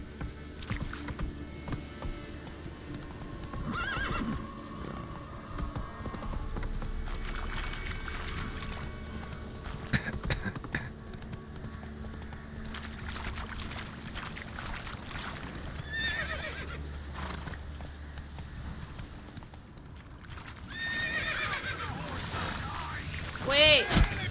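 Horse in a video game set in Velen, with hoof clip-clop and a neigh over a steady outdoor ambient bed, plus a brief voice, the galloping fairly constant throughout.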